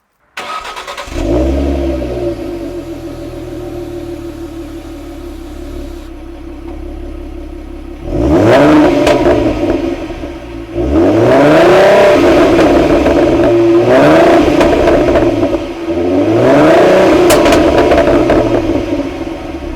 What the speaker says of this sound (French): C'est un V6, au démarrage du coup, ça fait pas un bruit de ouf.